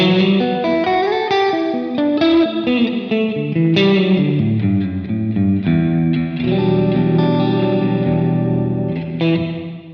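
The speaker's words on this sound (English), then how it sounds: "So again, a nice quality sounding reverb." An electric guitar played through a JHS 3 Series Hall Reverb pedal rings out in sustained chords and single notes, each washing into a long, lush reverb tail with modulated shimmer, loud and up close with no talking.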